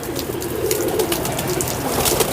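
Pigeons coo softly amid continuous outdoor ambience at a pigeon keeper's loft, low murmuring calls running throughout with no talk.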